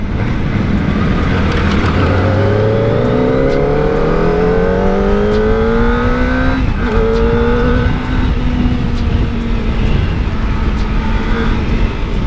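A Kawasaki ZX25R four-cylinder motorcycle on a test ride, engine pitch rising in a long pull with short gear changes, loud and close over steady wind rush, no talking.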